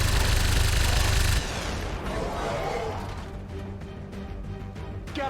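Heavy weapon fire during a turn-based tactical battle in XCOM 2, a loud sustained blast up front that gives way to a clattering, fading tail with scattered sharp impacts.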